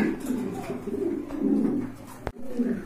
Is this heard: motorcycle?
no